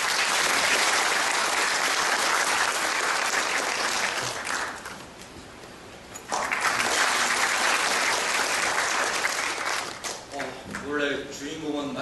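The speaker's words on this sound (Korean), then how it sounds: "큰 박수로 맞이해 주시기 바랍니다" A hall full of university professors at a national rally gives loud, sustained applause. It thins briefly midway, swells back up, then fades as a voice begins speaking at the end.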